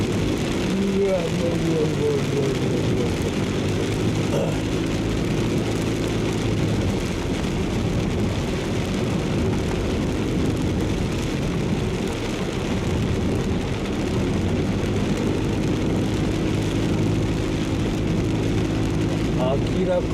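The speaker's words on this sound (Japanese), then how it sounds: "この前の台風より雨が強いです。" Heavy typhoon rain hammers a moving car in the Kibi highlands of Okayama during a storm, a dense, steady roar over engine and road noise for the whole stretch, with a voice talking at times.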